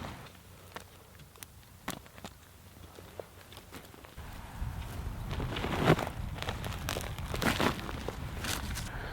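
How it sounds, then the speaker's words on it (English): Agribon row cover fabric is cut and handled outdoors, giving soft crinkling and rustling with scattered clicks and snips that grow louder and denser in the second half, close by and with no talking. "And then usually cut excess agribon here."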